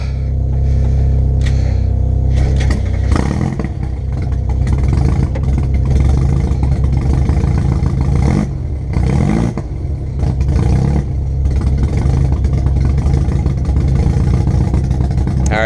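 An old, rough-running car engine runs loud and close, revving and clattering unevenly throughout with a steady low rumble.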